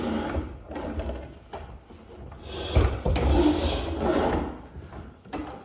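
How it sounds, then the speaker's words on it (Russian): A tall chair at a piano scrapes and rubs across the floor as it is pushed away, uneven wooden creaks and knocks in irregular bursts with no talk over them. "Если я выбираю слишком высокий стул, отодвигаю"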